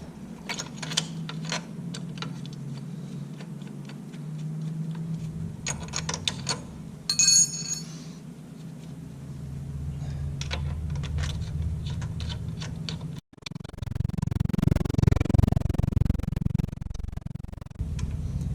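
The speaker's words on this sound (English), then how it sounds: "But first you got to release the brake nut, which is a 17mm" A wrench works loose the 17mm brake nut on a bicycle's rear wheel, giving scattered close ticks and ratcheting clicks, a brief metallic clink, then a low rumbling handling noise toward the end.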